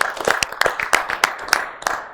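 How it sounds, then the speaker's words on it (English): A quick series of sharp hand claps, about eight crisp separate hits in an uneven rhythm, close and loud with nothing else underneath. "That's a clap."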